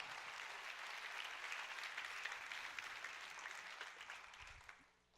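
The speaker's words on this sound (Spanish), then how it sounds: "Démosle fuerte un aplauso al Rey, por favor" A church congregation gives a sustained round of applause, dense and even, that gradually fades away near the end.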